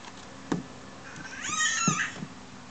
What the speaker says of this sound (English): Look at the kitten.